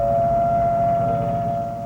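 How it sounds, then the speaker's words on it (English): Sirens wail across the volcanic Caribbean island of Montserrat during an eruption, a steady sustained tone over a low rumbling background, loud and continuous without pause. "Sirens rang across the Caribbean island as more smoke billowed from the now active volcano"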